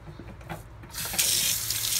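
A kitchen tool rinsed under a running tap: faint clattering at first, then a loud, steady hiss of water from the faucet filling the rest, close by and without any talking.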